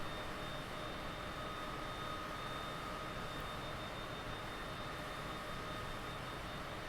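A simulated plane engine in Microsoft Flight Simulator 2020, approaching Aspen-Pitkin County Airport, gives a steady broadband roar with faint whining tones, holding even and loud throughout with no talk over it.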